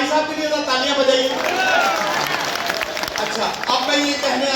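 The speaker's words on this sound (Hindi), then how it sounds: "ये अपने आप में भाई साहब के लिए तालियां बजाइए।" Applause and crowd noise from a mushaira poetry gathering in Bulandshahr, steady and fairly loud throughout, mixed with voices and chatter from the audience.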